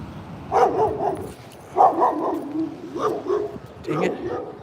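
A dog leans out of a car window on a cold morning, barking in short repeated bursts with yips and whines, fairly close and mixed in with background voices.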